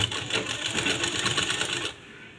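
A sewing machine stitches piping onto a blouse in a fast, even run of needle strokes that stops abruptly near the end, close and clear.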